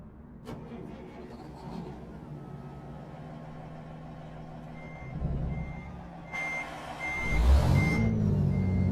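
A truck engine idles steadily with a low rumble, joined near the end by repeated high reversing beeps and a louder surge of motor noise.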